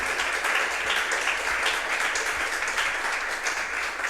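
A church congregation applauds for the Lord in a steady, dense wash of clapping that fills the whole stretch without pause or voices.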